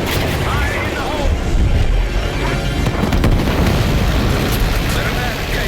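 An explosion in a Black Ops 6 video game cutscene, a loud, rumbling blast set within dense, continuous battle noise. Heavy booming and crackling debris run for several seconds with voices partly audible under the din.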